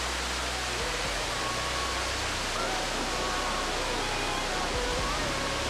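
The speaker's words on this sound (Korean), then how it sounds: "플리트비체뿐 아니라 크로아티아에서도 가장 높은 폭포로 알려진 벨리키슬라 폭포" Veliki Slap, the tall waterfall at Plitvice in Croatia, gives off a steady, broad roar of falling water that fills the whole stretch without a break.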